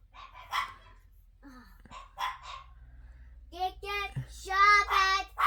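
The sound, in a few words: dogs barking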